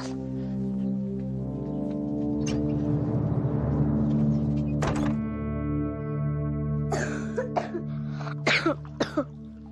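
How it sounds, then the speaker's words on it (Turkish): A series of short, sharp dry coughs near the end, sounding close, over a steady droning background hum. "Kuru kuru da öksürüyor ya."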